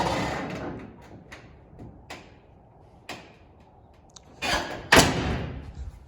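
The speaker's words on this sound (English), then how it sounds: "tailgate hits off it." A 2nd-gen Dodge truck tailgate being fitted over a roll pan knocks against it with a few dull thuds and clunks, the loudest near the end, close by in a quiet garage.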